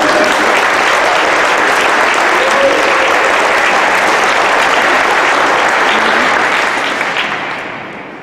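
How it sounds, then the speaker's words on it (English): Audience at a college athletics hall of fame ceremony applauding, loud dense clapping that holds steady for several seconds before fading out at the end. "So let's give a big round of applause to all of you."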